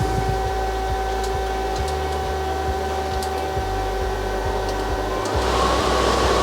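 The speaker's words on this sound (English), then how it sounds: "So hit the dust extraction." The dust extraction system for a laser cutter runs as a steady loud hum with tonal drone, joined by a rhythmic mechanical ticking and whirring of the machine; no voices are heard.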